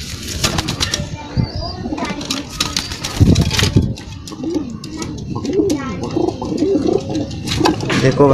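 Pigeons coo and rustle nearby while someone talks over them, with occasional wing flaps and scattered clatter.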